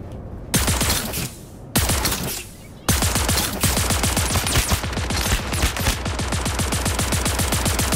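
Automatic gunfire in the Star Citizen video game: loud, close rapid bursts separated by brief gaps, then merging into a long sustained volley of rattling shots.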